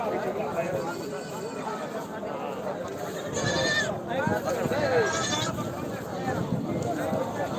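Beetal goats bleat in bursts at a crowded goat sale, with people talking loudly throughout and a couple of sharper, higher calls standing out midway.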